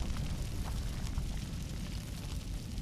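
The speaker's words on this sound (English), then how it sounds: "Ange's body is propelled forward by the powerful shockwave caused by the explosion." Explosion in the video game Girls' Frontline, heard as a dense, rumbling low-heavy roar with crackling texture that holds steadily for a few seconds.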